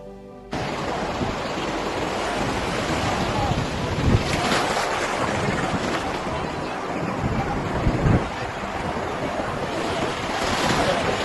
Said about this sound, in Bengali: সমুদ্রের গর্জন এবং ঠান্ডা হাওয়া